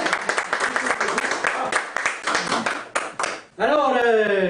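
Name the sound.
audience applauding a storyteller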